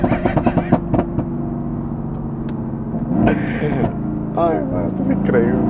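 Mercedes-AMG GT S Edition 1 turbocharged engine after the throttle is lifted, a low rumbling idle with a few sharp pops and crackles at the start, heard from inside the car while people talk over it.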